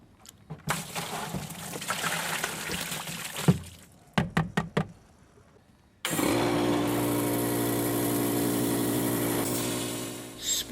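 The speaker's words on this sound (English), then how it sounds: "Spray out all the soapy water out of the hopper" A Graco 1500 texture pump sprays soapy water out of its hopper. Bursts of sputtering spray and knocking are broken by brief gaps, then a loud continuous motorized spraying roar runs to the end.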